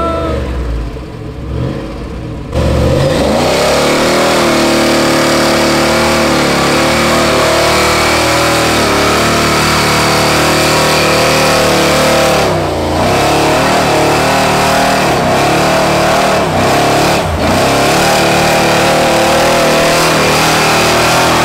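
A pickup truck's engine bursts into a loud, sustained roar as it spins donuts, holding high revs with brief dips and surges as the throttle is worked, close and unbroken for about twenty seconds.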